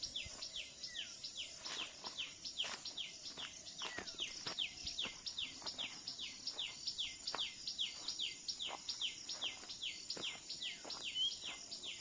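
A tailorbird repeats rapid, sharp chirping calls in a steady series near a river with lotus plants, over a constant high insect drone and faint rustling.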